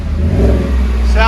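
A Chevy Silverado 5.3L V8 with a Flowmaster exhaust revs up close by, giving a deep, loud, steady exhaust rumble that rises in pitch toward the end. A person speaks over it.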